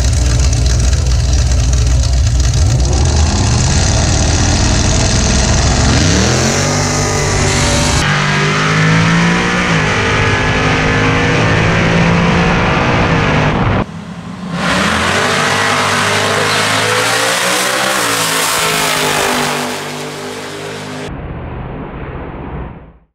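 Drag race launch of a Camaro ZL1 against a twin-turbo Coyote-powered Mustang with a stock-style long block, loud engines roaring and revving hard as the cars accelerate, with a brief break in the roar before another loud burst, no talking.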